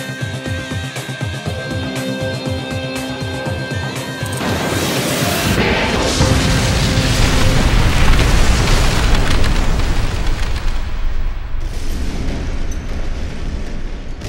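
A rocket explosion erupts as a loud, sustained roaring blast with crashing debris, building over several seconds from a tonal musical backdrop and staying dense and close throughout.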